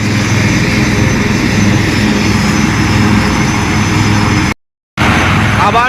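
Military helicopters flying in over the Brigade Parade Ground during an Indian military drill: a loud, steady rotor and engine roar close overhead, cut by a brief dropout near the end.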